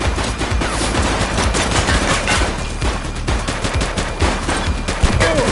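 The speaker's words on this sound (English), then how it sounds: "Shots fired!" Rapid gunfire rattles continuously in a police shooter game, dense overlapping shots and bursts sounding loud and close for the whole stretch.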